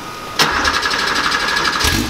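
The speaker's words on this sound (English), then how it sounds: "It was such a delight to see it cold start, just a few cranks of the key and it burst into life, this car." A Porsche 911 SC flat-six fires up from cold, a sharp bark of ignition settling into a loud, busy, buzzing idle that revs briefly again near the end, close by and without speech.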